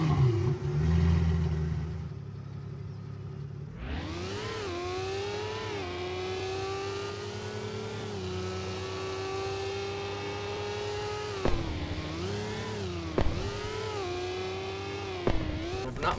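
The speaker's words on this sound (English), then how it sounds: "It has its own engine sounds, its own startup sound, and is the first car to have a proper afterburner added to it," A sports car in the Roblox Jailbreak video game with its own startup sound and an afterburner, idling quietly before the engine roars up and holds a loud, steady synthetic drone, broken by several sharp rev blips and shifts near the end.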